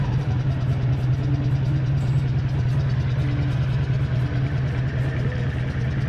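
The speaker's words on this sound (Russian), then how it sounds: "Вот так работает японский мотоцикл, который всего лишь на один год младше меня." A Honda VF500 Magna V30 motorcycle with light tuning idles after its choke is pushed off, its V4 engine giving a steady, close, low throbbing rumble with no one talking.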